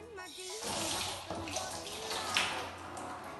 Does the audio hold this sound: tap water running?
yes